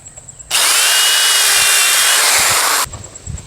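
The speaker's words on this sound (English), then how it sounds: "Then I'm going to drill some pilot holes on the side and then screw that board in." Power drill boring pilot holes into a wooden board for an archery bow rack, a loud continuous whine lasting a little over two seconds, starting and stopping abruptly, heard close with no talk.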